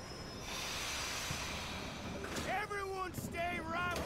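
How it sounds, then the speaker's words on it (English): A train pulls into a station in Red Dead Redemption 2, a steady rumbling hiss of the approaching engine and cars, joined near the end by voices talking over it. "Train's coming in."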